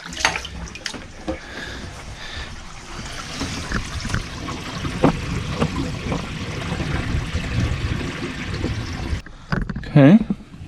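After the plugs are pulled, water drains steadily through newly installed RV sink plumbing with a continuous gurgling rush, close and fairly loud. It tapers off into a few trickles and soft drips near the end.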